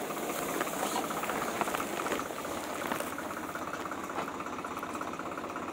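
Tractor engine running on a village farm during wheat sowing, a steady, loud rumbling drone with rattling, bubbling texture that continues without a break.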